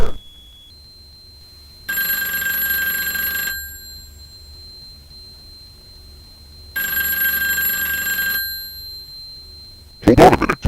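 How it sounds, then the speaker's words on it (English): A telephone rings in two long electronic bursts separated by a pause of several seconds, loud and close, with a steady faint tone running throughout and a short burst of talk or noise at the end. "The phone is ringing."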